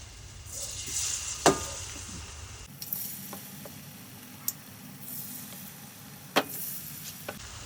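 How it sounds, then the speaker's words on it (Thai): Oil sizzles steadily as battered vegetables deep-fry in a pan, with a few sharp clinks and taps from utensils stirring in the pan. "ตั้งกระทะใส่น้ำมัน เปิดไฟจนร้อนแล้วนะคะ เราก็นำลงทอดเลยค่ะ"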